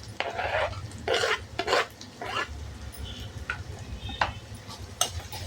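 Capsicum and boiled potato curry stirred in a pan, several scraping and clattering strokes in bursts over a low steady background, fairly close.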